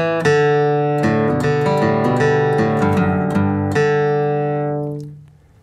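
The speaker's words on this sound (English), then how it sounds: "Here's the melody for Cripple Creek right here, just a little section of it" An acoustic guitar plays a short four-measure section of the bluegrass tune Cripple Creek with flatpicking, in crisp, evenly picked notes that ring out clearly on their own, and the final note decays at the end.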